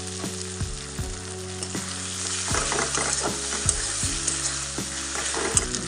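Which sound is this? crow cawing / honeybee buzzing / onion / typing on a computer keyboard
onion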